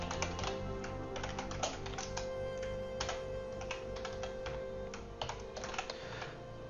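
Quick, uneven clicking of keys on a computer keyboard, heard up close as bursts of sharp taps with short pauses and no voices.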